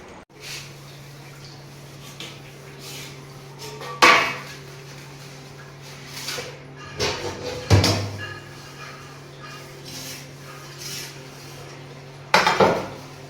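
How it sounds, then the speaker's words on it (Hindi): Dishes and utensils clink and clatter during washing, with a few sharper knocks against a steady background hum. "चल के बर्तन धुल दूँ"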